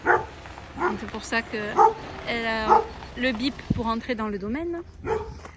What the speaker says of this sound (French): c'est un chien qui aboie lorsqu'il y a quelqu'un qui arrive.